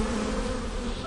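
Honey bees in a hive make a dense, continuous buzzing drone, close and steady throughout with no other sounds.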